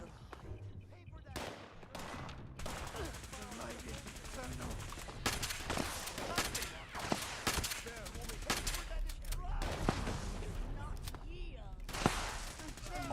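Rapid gunfire bursts from a Fallout 76 firefight, loud sharp shots in clusters and sporadic volleys over a steady game backdrop, with a voice talking intermittently.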